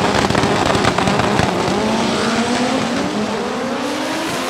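Powerful drag racing cars roar down the strip at around 240 km/h, a loud, dense engine blast with crackling pops early on and rising tones as they accelerate away, slowly easing in level.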